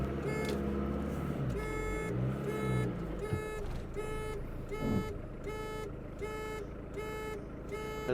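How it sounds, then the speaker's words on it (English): Steady road traffic heard from inside a high-mileage Autosleper Talisman motorhome, with a low continuous engine and road rumble and repeating electronic beeps or tones pulsing through the background. "Bit of traffic for a change here."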